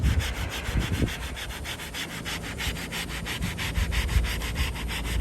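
An abrasive pad rubs away at a sticker in quick, even back-and-forth scrubbing strokes, close up and continuous with no talking.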